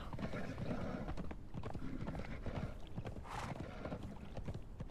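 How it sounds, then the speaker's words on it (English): Horse hooves clip-clop steadily across a bridge in the Conan Exiles video game, a fast, even rhythm of close hoofbeats with an occasional snort or whinny mixed in. "Let's get on the horse and let's ride across the bridge"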